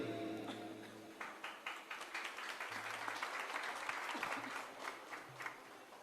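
An audience claps throughout at a live religious gathering, a dense run of sharp hand claps that swells and thins a little, with a faint low voice now and then underneath.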